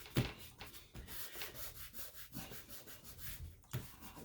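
Hand rubbing glued paper flat onto an old Reader's Digest book journal cover, a close, continuous scuffing friction with a couple of light taps, quiet and without voices.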